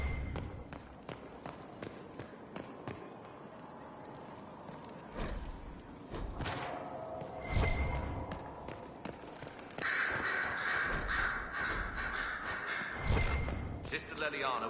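Crows cawing in the video game Dragon Age: Inquisition, scattered harsh calls among footsteps, thumps and clattering game ambience, with people talking throughout.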